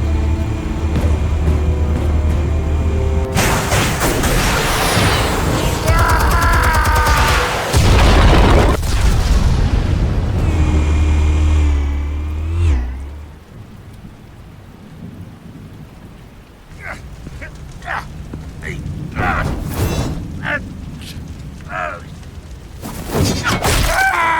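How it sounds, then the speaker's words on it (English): Explosives detonate in Batman: The Telltale Series, with loud, heavy rumbling booms that roll on for several seconds before dying into quieter crackling debris and scattered clatter. "Explosives armed. Fire when ready."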